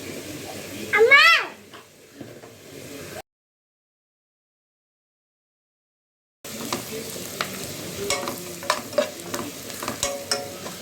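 Andhra-style chicken curry masala with salt and chili fries in a pan, with a spoon scraping and stirring through the sizzle. A few seconds of dead silence interrupt it before the sizzling resumes, with scattered stirring clatters.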